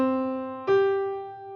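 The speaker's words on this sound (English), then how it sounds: "So the perfect fifth sounds like this." Perfect fifth interval, the opening of Twinkle Twinkle Little Star, played as two clear sustained instrument notes, a lower tone followed by a higher one, heard alone and fairly soft.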